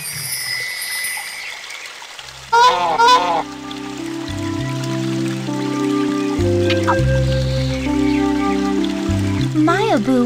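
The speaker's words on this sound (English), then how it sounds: "My Abu was actually a goose." Goose honking in a Disney Princess video game, a loud cluster of nasal honks near the start and another near the end, over a sustained game music backdrop.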